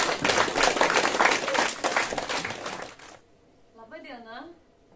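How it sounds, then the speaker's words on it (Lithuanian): Lively applause from an audience at a romance-song evening, dense and loud for about three seconds, then cutting off abruptly as a single voice briefly begins. "Sutikime plojimai"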